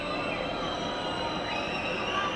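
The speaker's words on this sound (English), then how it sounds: "And you can hear and see the train going behind there." A train rumbles past in the distance behind a rugby league ground during Castleford v Leeds, a low steady roar with faint wheel squeal, partly masked by background crowd murmur.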